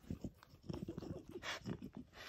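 A puppy panting close by, quick soft breathy huffs in an uneven rhythm, fairly quiet throughout.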